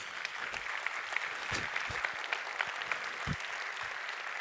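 Audience applause after a healthcare futurism talk on stage, a steady spread of clapping from many hands in a hall, moderately loud with a few sharper claps standing out.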